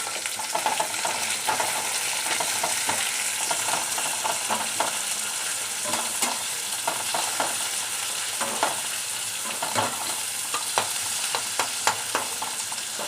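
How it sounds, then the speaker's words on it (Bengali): Onions frying in oil with black cumin in a pan make a continuous close sizzle with scattered pops and light stirring scrapes, and no voices are heard. "পেঁয়াজটা লাল করে ভাজতে হবে।"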